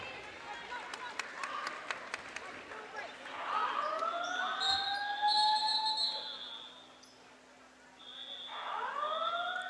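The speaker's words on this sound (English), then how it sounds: "we've got the fire alarm going off now here at the Panther Field House" A fire alarm sounds inside the Panther Field House during a varsity basketball game, with rising, sweeping electronic tones and sharp whistle blasts over crowd murmur and voices.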